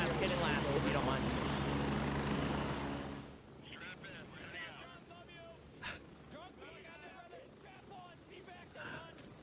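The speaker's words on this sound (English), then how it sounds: "Who called in this heli?" A helicopter in the military shooter game Gray Zone Warfare sends a loud, steady rotor and engine roar for the first few seconds, then drops to a quieter rumble as people talk over it.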